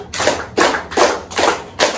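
Children in a classroom clap together in unison, five loud, distinct claps spaced evenly a little under half a second apart, with no talking over them.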